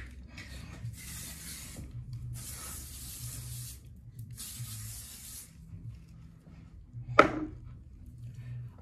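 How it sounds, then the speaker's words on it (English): Several short hissing bursts of TG Shine Spray being sprayed onto hair, three distinct pumps of aerosol mist close to the microphone, each about a second long, followed later by a brief sharp clatter. "And then I'm going to pop some TG Shine Spray on."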